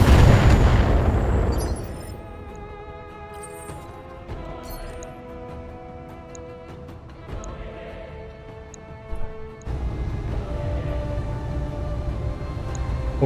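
Mech weapons fire in Battletech, opening with a loud explosive roar that fades into quieter ticking, humming mechanical tones and small pops, then a fresh rumble near the end.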